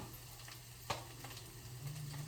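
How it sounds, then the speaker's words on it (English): Eggs frying over easy in vegan butter in a pan, a quiet continuous sizzle with a faint low hum and one small tap, no talking. "I think I'm gonna fry my eggs over easy today"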